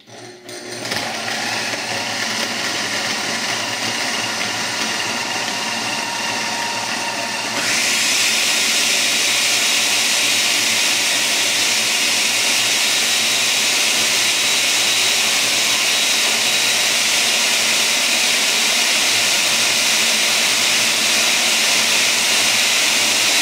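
A blender purees a Korean galbi marinade for LA-style beef ribs, a loud continuous whirring drone that jumps to a higher, harsher pitch partway through and keeps running steadily to the end.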